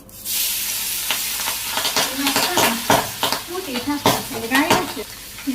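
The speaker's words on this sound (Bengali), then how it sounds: "তেল গরম হয়ে গেছে, আমি একে একে মাছগুলো ছেড়ে দিই।" Fish pieces dropped one by one into hot oil in a karai in a Bangladeshi village kitchen, a loud close sizzle that flares up with sharp utensil clinks and spatters, with a voice faintly underneath.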